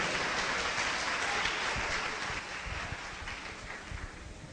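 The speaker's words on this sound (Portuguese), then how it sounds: "Palmas, irmãos." A church congregation claps hands together during a Sunday service, forming a dense, continuous wash of clapping that stays loud and fills the room, easing slightly toward the end.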